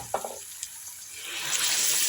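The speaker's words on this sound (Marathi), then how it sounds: "याच्यात आता मी गरम पाणी टाकले, थंड पाणी नाही टाकायचं" Hot water poured into a pan of mixed vegetables for a bhogi bhaji, a few faint clinks at first and then a rising rush of pouring water that swells and holds to the end.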